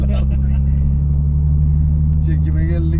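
A Nissan Skyline R33 GTST tuned to 600 hp roars under hard acceleration from inside the car, a loud, steady low engine drone that holds through the whole stretch, with brief voices at the start and end.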